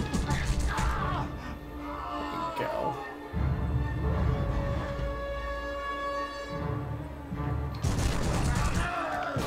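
The Punisher video game plays bursts of gunfire and booming impacts under game noise, while people talk and laugh over the action.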